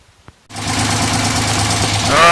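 A race car engine fires up abruptly after a vacuum leak fix, settling into a loud, close, steady idle with a rough knocking edge and rising slightly near the end, under a voice.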